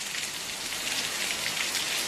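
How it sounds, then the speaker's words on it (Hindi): Steady rain falls in a mountain area of Uttarakhand, a dense, even hiss of drops striking surfaces that holds unbroken and fairly loud throughout, with no voices. "रुक रुक कर बारिश लगातार हो रही है"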